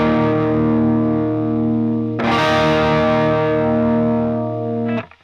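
A sustained sus chord on electric guitar run through distortion and chorus effects, ringing steadily before a fresh strum re-attacks it and lets it sustain, then it is cut off.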